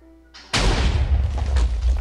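Cannon blast in Minecraft: a sudden loud boom bursts in after a brief quiet lead-in, then a sustained rumbling roar of debris that holds for the rest of the moment.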